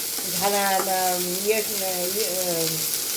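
Spices and chillies sizzle in hot oil as a lentil dish is tempered, giving a steady close-up crackle and hiss with a faint tonal hum of a voice running underneath.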